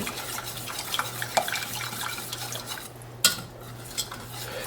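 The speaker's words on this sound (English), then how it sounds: "And you want to keep whisking to make sure it doesn't go lumpy." A flour-thickened sauce being whisked in a pot, with a steady soft scraping and light metallic clinks of the whisk against the pot, plus a faint continuous hum underneath and a sharper clack near the end.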